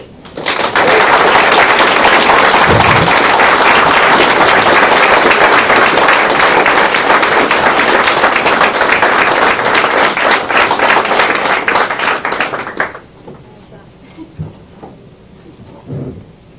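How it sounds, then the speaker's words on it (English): A dinner crowd of veterans at a Saranac Freedom Club gathering breaks into loud, sustained applause that lasts about twelve seconds before cutting off, leaving faint room noise behind. "If we could just get one more round of applause for everyone"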